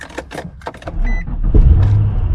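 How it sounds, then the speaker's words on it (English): A car with a weak battery starting up: a few clicks and rattles, then the engine cranks and catches into a steady, loud, close rumble. "let's see how slow this car starts up when we try to start it"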